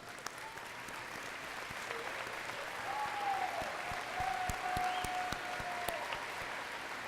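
Audience at an associate degree commencement ceremony applauding graduates' family and friends, a steady, sustained wash of many hands clapping at moderate distance throughout, with a faint whistle-like tone drifting over it.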